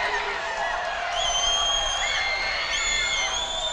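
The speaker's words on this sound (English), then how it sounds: "the Salt Lake community crowd here is going absolutely wild" Home fans at a Salt Lake Community College women's basketball game against Snow College cheer wildly, a dense, continuous roar with high whoops and shrill cries rising over it throughout.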